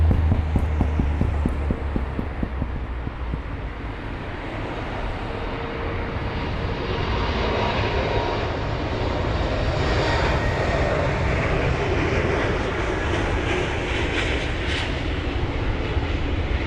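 An airliner departing London Heathrow roars continuously at close range, its broad jet engine rumble holding loud and steady throughout with no voices.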